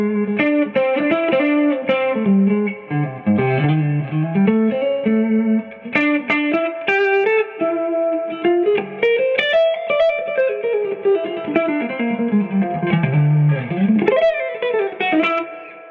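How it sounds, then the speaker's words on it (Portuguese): An electric guitar plays through a Giannini Classic T tube amplifier with its reverb switched on, giving a continuous run of melodic notes and chords with a lingering, spacious tail, loud and close, with no talking. "Agora vamos colocar o reverb e vamos sacar a diferença do timbre limpo."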